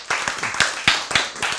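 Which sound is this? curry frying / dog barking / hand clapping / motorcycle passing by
hand clapping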